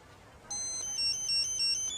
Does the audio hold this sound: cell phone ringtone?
yes